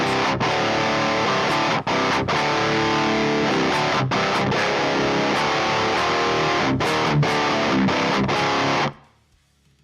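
Heavily distorted electric guitar through a Mesa Boogie Mark II C Plus amp simulator, playing loud chugging thrash riffs with brief stops, then cutting off to near silence at the end.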